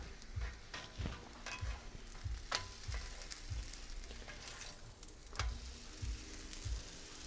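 Corn tortillas cooking directly over a flame on a taco stand griddle, a soft sizzle under repeated patting and flipping thuds in an uneven rhythm, close and quiet, without talk.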